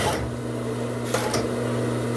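A coverstitch sewing machine hemming a waistband on fitness shorts gives a steady, close mechanical hum that runs throughout, with two brief sharper bursts midway.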